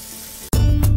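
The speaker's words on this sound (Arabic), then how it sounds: "احنا حطينا فخاد الدجاج المغطاي بالخلطه اللي حضرت لنا اياها ايات بالنسبه لموضوع الكنتاكي اللي ممكن يتحضر بالبيت بقلب الزيت" Coated chicken thighs go into hot oil for deep frying, a brief close burst of loud sizzling that starts abruptly after a quiet moment of faint background hiss.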